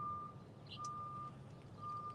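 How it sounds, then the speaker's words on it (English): A backup alarm on landscaping equipment beeps steadily in evenly spaced tones, faint and distant across woods, with a quiet outdoor background. "the backup alarm on some equipment over here"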